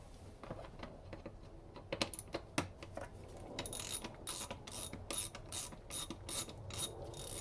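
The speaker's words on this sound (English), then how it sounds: "we're going to take a T20 and we're going to remove the two screws on your mass airflow sensor" A T20 driver backs two screws out of the mass airflow sensor on a 2012–2016 Chevrolet Impala with the 3.6 LFX engine, making quiet, rapid ratcheting clicks that come in quickening bursts, close by and with no talking.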